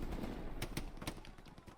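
A sniper rifle shot in an 18-versus-18 multiplayer shooter match cracks sharply amid other gunfire and battle noise, several broadband bursts landing close together.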